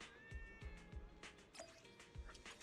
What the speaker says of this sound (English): I heard cat.